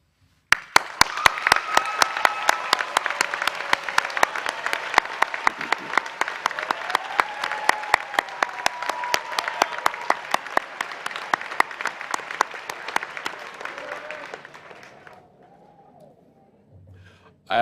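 Audience applause at a graduation convocation, a steady wash of many hands clapping with a few sharp close claps on top, sustained for about fourteen seconds before fading out.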